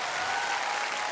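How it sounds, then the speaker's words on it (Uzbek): A studio audience at a televised singing competition claps in a dense, steady roar of applause that holds at an even level throughout, with no voices standing out. "olqishlab qo'yamiz"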